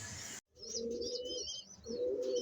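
Pigeons coo close by in two sustained low bursts, separated by a short gap, with bright chirping tweets layered over them after a sudden cut to silence.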